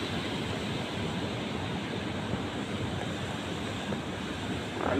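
Ocean surf at Sabang Beach in Baler, Aurora rolls in a continuous, fairly distant wash of broadband noise with some wind buffeting the microphone and no voices.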